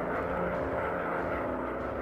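A propeller-driven aircraft engine in a combat flight video game drones steadily at high power for about two seconds, a continuous dense roar with no clear change in pitch.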